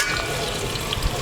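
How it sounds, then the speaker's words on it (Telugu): Onions fry in oil inside a pressure cooker pot, producing a steady, loud, close sizzle that holds evenly throughout with no voices. "ఈ ఉల్లిపాయలు వేగుతుండేనండి"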